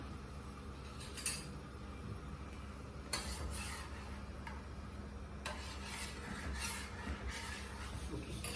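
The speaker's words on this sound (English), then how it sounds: "I'm going to keep stirring these in between." A pan being stirred while making mango cheena with boiling milk, faint intermittent scraping and light metallic taps spaced a few seconds apart over a low background hum.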